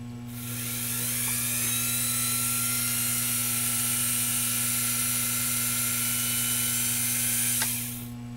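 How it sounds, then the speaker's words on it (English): A Pfaff sewing machine motor, driven through a foot control, spins up and holds a steady, loud whine with a constant low hum underneath, then winds down at the end; no one speaks. "we should see that motor spin up"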